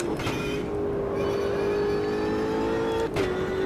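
A race car engine in the video game Automobilista 2 holds a steady, loud, high-pitched drone, revving smoothly with a brief dip near the end, close and continuous with no talk.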